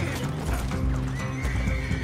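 A horse whinnies over a steady clip-clop of hooves in a video game, loud and close, with game-like background sound running throughout.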